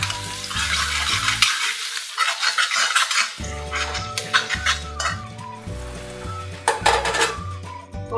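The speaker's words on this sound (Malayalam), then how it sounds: "വെളിച്ചെണ്ണ ഒഴിച്ചതിന് ശേഷം 3 ചുവന്നുള്ളി ഇട്ട് കൊടുക്കാം." Shallots frying in coconut oil in a pan, bursts of crackling sizzle and stirring scrapes against metal, with a steady background tone running through, close and fairly loud, no talk.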